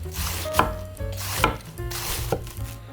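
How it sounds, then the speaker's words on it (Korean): Knife strokes shredding cabbage on a board, a few sharp chopping hits spaced unevenly with soft rubbing between, close and fairly quiet. "제일 먼저 양배추를 채 썰 거예요"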